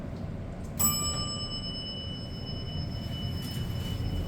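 Hydraulic elevator at the Gulf Gate Professional Complex in Sarasota, Florida sounds its arrival bell: a single bright, clear ding that rings out and decays slowly over a steady low hum of the car.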